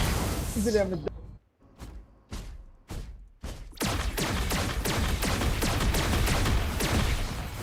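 Gunfire in PUBG Mobile: a burst of shots, then several separate sharp cracks spaced about half a second apart, followed by dense rapid firing and impacts that continue loud to the end.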